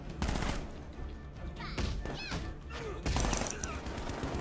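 Rapid gunfire and bullet impacts from the Batman: Arkham Knight video game, dense bursts of shots with thuds running continuously through the whole stretch, loud and busy with game effects layered over it.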